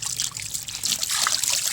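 Water trickles and splashes while a rabbit is being bathed, a soft uneven dribble that grows slightly stronger partway through, with no talking.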